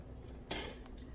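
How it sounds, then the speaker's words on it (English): A spoon scrapes and clinks once against a Dutch oven while stirring roast beef and vegetable soup, one brief close metallic rattle followed by a fainter second touch over quiet kitchen background. "Give that a stir."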